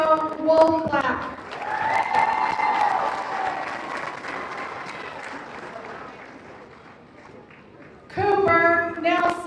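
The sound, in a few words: graduation audience clapping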